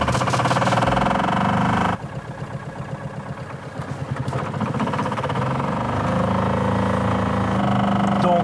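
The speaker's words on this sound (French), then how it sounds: "on va aller faire un petit tour pour voir ce que donne la voiture en roulant" A Ligier Myli diesel microcar's engine hums and revs while driving, a steady low mechanical drone with rising and falling pitch, close and fairly loud, with a voice speaking briefly at the start.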